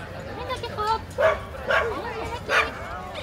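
Dogs at an agility obstacle course during a town fair, giving a few short, bright barks and yips in separate bursts, fairly close, over a low outdoor murmur.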